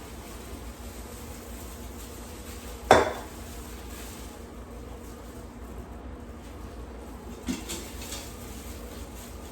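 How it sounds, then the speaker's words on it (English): A whole chicken is set down into an Instant Pot electric pressure cooker, making a single distinct clunk against the pot. A fainter knock follows several seconds later in an otherwise quiet kitchen. "And add the chicken."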